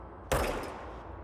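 A single loud gunshot from a handgun in the video game Control, a sharp crack that fades over about a second, with no talking.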